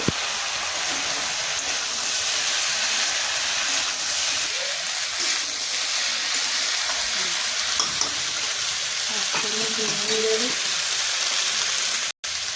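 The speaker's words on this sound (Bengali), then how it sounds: "কেটে রাখা লাউগুলো সব এর মধ্যে দিয়ে দিচ্ছি ভালো করে নাড়াচাড়া করব" Chopped bottle gourd sizzles steadily in spiced oil in a pan, with a dense, loud hiss of frying and occasional scraping from stirring throughout.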